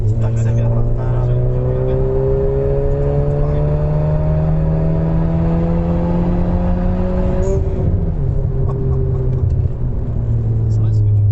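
Tuned Suzuki Swift Sport, front-wheel drive, revving steadily with engine pitch climbing over several seconds, then dropping and rising again, loud and close under ongoing conversation.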